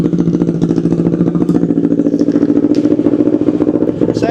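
A Kawasaki Ninja 650 fitted with a JPT SC Project muffler idles close by, a loud, steady, rapid-pulsing exhaust rumble that holds even throughout with no talking.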